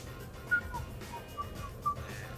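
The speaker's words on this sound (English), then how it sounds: "Are you whistling?" Faint, short whistled notes in a loose melody, a few separate tones over a quiet background, from the video game Mass Effect 3.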